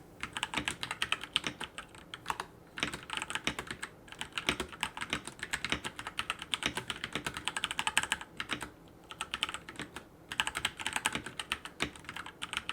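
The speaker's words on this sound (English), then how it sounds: "Here's a quick keyboard sound test." Steady, rapid typing on a backlit computer keyboard in a PC gaming setup, dense clicky keystrokes running continuously with brief pauses, close and alone without any talk.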